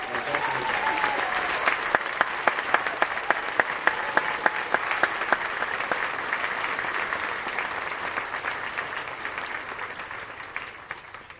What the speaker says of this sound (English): please give us the biggest round of applause and congratulations for our graduation